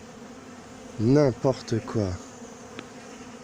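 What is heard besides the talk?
honey bees around a horizontal hive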